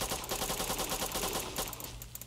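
Rapid gunfire in the video game Dead Rounds, a dense run of repeated shots over a constant game background, loud and close.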